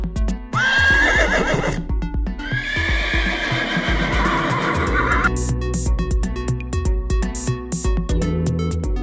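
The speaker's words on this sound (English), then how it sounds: "Horse." A horse whinnies loudly twice in close succession, each neigh bright and quavering, with clopping hooves and knocking sounds continuing underneath and after.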